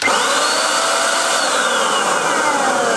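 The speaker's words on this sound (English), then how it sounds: "Yeah, the paint sprayer is definitely louder than the hairdryer." A cheap Teccpo electric HVLP paint sprayer runs continuously at close range, a loud, even blowing roar with a high motor whine, harsher than a hairdryer; no voices.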